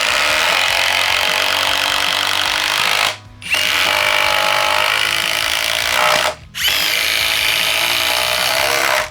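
An impact driver sinks a 4-inch timber lock screw in three loud, close bursts of rapid hammering whir, each run separated by a brief silent pause.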